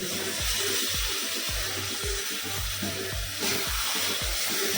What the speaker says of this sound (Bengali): এখন দিয়ে দিলাম কেটে রাখা ক্যাপসিকাম এরপর দিয়ে দেবো মাশরুম